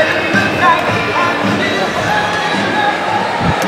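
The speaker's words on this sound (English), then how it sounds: "Music's blasting. Crowd is roaring on both sides." Dense crowd roar fills a packed hockey arena during a New Jersey high school Mennen Cup game, a steady loud wash of fan noise with voices mixed in throughout.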